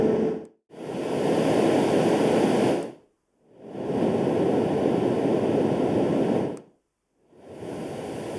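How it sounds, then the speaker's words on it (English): Ocean surf setting on a LectroFan Micro 2 white noise machine: broad, hissing swells of synthetic surf rise and fall in steady waves, each separated by a brief near-silent gap. "It has 4 white noise sounds, 5 fan sounds, and 2 ocean surf like the larger Lectrofan Evo."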